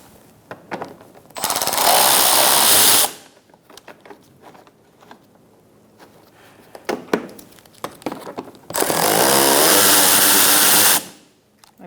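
A power tool backing out headlight bolts on a 2004-2009 Mazda 3 with an 8mm socket, two loud sustained whirring bursts of a few seconds each, separated by quieter clicks and handling noises.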